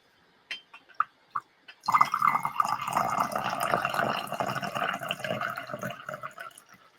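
Tea pours into a small handmade teacup, a few soft drips and clinks first, then a steady close splashing trickle that continues and gently tapers off, heard alone without talk.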